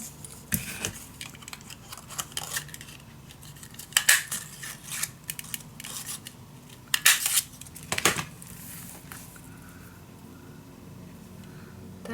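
Scissors snipping through paper while a mini album is made, a series of crisp close cuts in irregular clusters with quiet pauses between, without speech.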